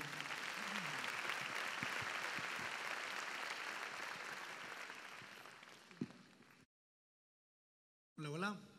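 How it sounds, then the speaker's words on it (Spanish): Congregation applause at a church workshop, a loud dense round of clapping that gradually fades, then a short silence before a voice begins. "¿Cuánto le damos un fuerte aplauso a nuestro Señor?"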